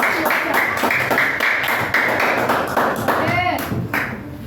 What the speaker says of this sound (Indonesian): Oke, tepuk tangan dulu, kita coba dulu.